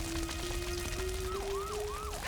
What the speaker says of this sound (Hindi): हर तरफ सायरन बजने लगी।